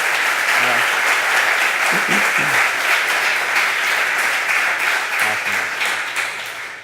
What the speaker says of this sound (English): Everybody, let's give Rick another round of applause.